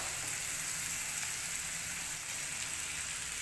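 Potatoes and onions frying in oil with turmeric, giving a steady, even sizzle that holds at one level throughout with no talking.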